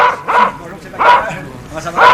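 A house dog barks three times at a doorbell, loud and close, each bark evenly spaced about a second apart.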